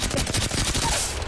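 Rapid automatic gunfire in a squad-based online shooter: a dense, loud burst of machine-gun fire lasting about a second.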